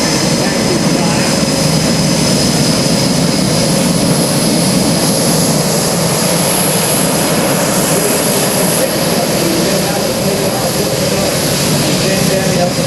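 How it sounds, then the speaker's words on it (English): A Vought F4U Corsair flies at the 2009 Joint Services Open House air show, its propeller engine a loud, unbroken roar that fills the whole stretch, with a voice faintly mixed in. "continues to fly this beautiful Corsair"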